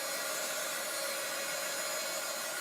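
A hair dryer blows steadily over chalk paste on a craft stencil project, a continuous, even airy whoosh with no pauses or talk.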